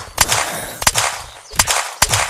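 Gunfire in a video game where an airplane gets blown up: four sharp, loud shots spaced about half a second apart, each a crisp burst with a short tail.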